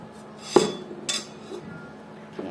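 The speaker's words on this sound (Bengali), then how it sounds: "এখন আমি কোটা শুরু করি" A few sharp knife strikes cut capsicum and carrots on a board, sounding as sparse, close clacks with short pauses between them and no speech.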